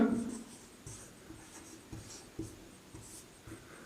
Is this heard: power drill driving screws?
no